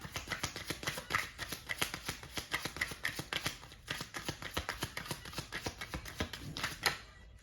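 Tarot cards are riffled and shuffled in rapid, crisp, close flutters of papery clicks, broken by brief pauses.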